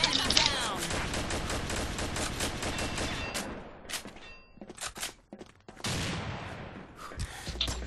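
Rapid automatic gunfire from the shooter game Combat Arms on an oil rig map, dense sustained bursts up close, then a brief lull with scattered shots before another loud burst.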